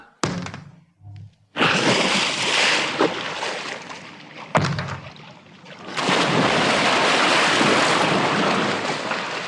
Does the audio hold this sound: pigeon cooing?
no